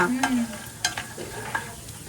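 Pongadalu fry in oil in a thick steel pan, giving a close bubbling sizzle with sharp crackles and pops scattered across the short stretch.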